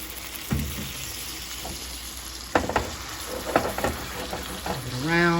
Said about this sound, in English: Add in some wine.